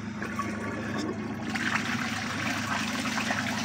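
Water swirls and trickles steadily in a vintage forward trap toilet as it flushes but fails to siphon out fully, a continuous close, moderately loud rush.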